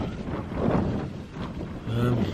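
Strong wind buffeting a tent at a wild campsite high on Cribyn in the Brecon Beacons before dawn, loud roaring gusts that swell and ease, with a voice faintly mixed in.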